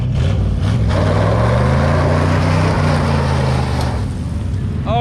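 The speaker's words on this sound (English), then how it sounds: "Do a burnout, man!" A 1998 Subaru doing a burnout on dust, loud engine roar rising and sustained close by for several seconds before easing off.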